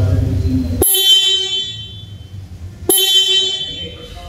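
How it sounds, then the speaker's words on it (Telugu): A BSA Goldstar 650 motorcycle horn, mounted on the side, sounds twice: two loud, close, sharp honks separated by about two seconds, each followed by ringing decay. "ఈ బైక్ లో యూనిక్ గా హార్న్ ప్లేస్మెంట్ అనేది ఇక్కడ సైడ్ అయితే ఇచ్చారు. సౌండ్ కూడా లౌడ్ గానే ఉంది,"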